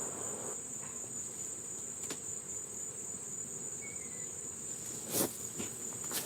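Honeybees swarm around an open, active hive during an inspection and honey harvest, giving a steady, dense drone with a bright high whine on top and a brief louder swell near the end.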